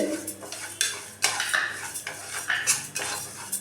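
Moong dal is dry-roasted in a pan and stirred constantly, giving a run of close, rhythmic scraping and clinking utensil strokes over a light rustle of the lentils. No voices are heard.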